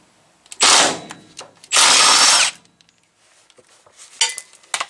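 A power tool zips 18 mm bolts off the bumper of an OBS Chevy Silverado truck in two loud, close bursts of about a second each, followed by faint clicks and clanks.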